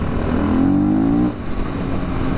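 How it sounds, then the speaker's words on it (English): A 2016 Husqvarna FE 501 S motorcycle accelerating hard with its rear tire spinning, the engine note rising steadily in pitch, then cutting back to a lower steady drone, close and loud. "that tire's spinning when I'm getting on it"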